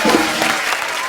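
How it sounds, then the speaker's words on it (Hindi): A studio audience on a comedy talk show gives cricketer Brett Lee a quick burst of loud, dense applause that holds steady for about a second. "जोरदार तालियां हो जाए ब्रेड के लिए."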